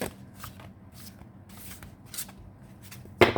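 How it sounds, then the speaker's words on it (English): A large Marseille tarot deck shuffled by hand, a steady run of soft papery riffling bursts repeating every half second or so, close and quiet, ending with a sharper clack. "I just shuffle it this way."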